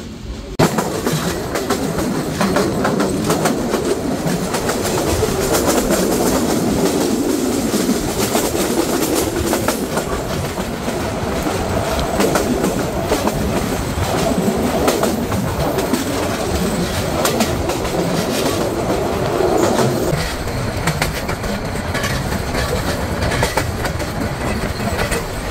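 The Paharika Express runs along a winding hilly railway between Chittagong and Sylhet, making a loud, steady rumble with rattling carriages and clickety-clack from the rails throughout.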